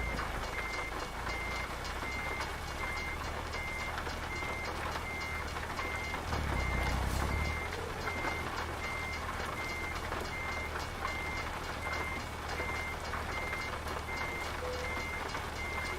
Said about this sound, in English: Speaking of trains, sounds like there's one nearby.